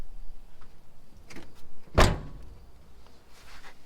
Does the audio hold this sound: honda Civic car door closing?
yes